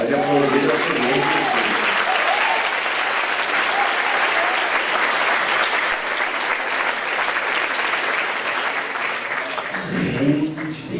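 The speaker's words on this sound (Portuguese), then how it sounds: "Pode aplaudir ao Senhor." A church congregation breaks into loud, sustained applause that fills the room for several seconds, with a voice speaking briefly at the start and again as the clapping fades at the end.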